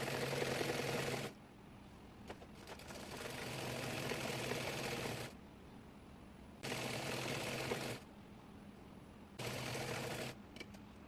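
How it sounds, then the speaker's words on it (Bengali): A sewing machine stitches petticoat fabric folded in three, running in several bursts of steady rapid whirring separated by quieter pauses, close and moderately loud. "এখানে তিন ভাজে কাপড়টি রেখে সেলাই করে নেবো"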